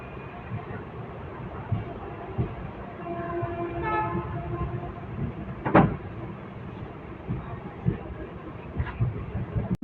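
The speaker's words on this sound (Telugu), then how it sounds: "ప్రజెంట్ అయితే మన ట్రైన్ 15 minutes డిలేతో రన్ అవుతుంది." Hubballi Express passenger train running, heard from on board: a steady rumble and rattle of wheels and carriages, with a horn sounding briefly and a sharp clank partway through.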